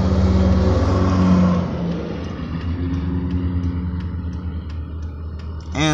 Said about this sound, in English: There's three semis.